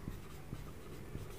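Someone writes an equation by hand, giving three soft, evenly spaced scratching strokes against quiet background noise.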